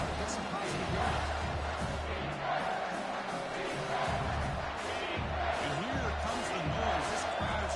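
A stadium crowd at a football game roars in a dense, sustained wall of cheering and shouting that swells during a defensive red zone stand, with a commentator talking over it.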